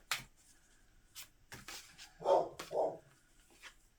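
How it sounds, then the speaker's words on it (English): Dogs bark a couple of times at a short distance indoors, two muffled, rounded woofs after faint rustling and handling noises, fairly quiet overall. "So sorry about the dogs."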